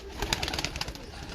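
Royal Teddy breed pigeons cooing, a short soft burst of low, throaty calls with a fluttery texture, close and quiet.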